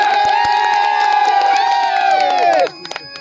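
A tamasha audience at a village comedy show cheers and whoops loudly as one crowd for about two and a half seconds, then cuts off sharply to a quiet room with a few faint knocks.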